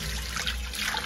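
A brief burst of water runs from a tap while hands are washed, a close, steady splashing stream into a sink.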